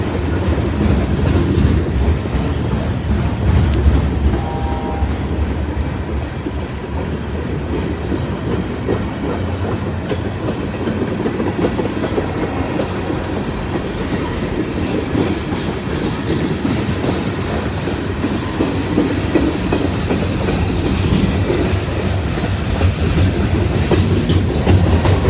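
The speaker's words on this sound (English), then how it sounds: "we hear the rumble of this train" A long freight train rumbling steadily past, with a continuous heavy roar and rhythmic clacking of wheels, loud and close the whole time.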